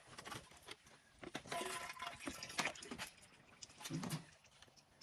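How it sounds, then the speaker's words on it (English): Engine oil draining into a pan nearby, a steady liquid trickle with small irregular splashes and patters, no voices. "let some of that oil drain out of there for a second"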